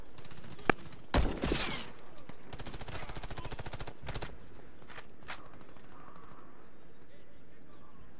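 Sharp gunshots crack out in a quick cluster in the game Warface, followed by a rapid rattle of automatic fire and a few scattered single shots, with game ambience underneath.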